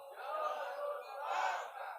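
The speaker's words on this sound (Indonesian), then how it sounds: "anak katanya pengen denger yel-yelnya nih" A group at a circumcision thanksgiving gathering shouts its rhythmic chanted yell in unison, a sustained crowd cry in two swelling phrases, heard from some distance at moderate volume.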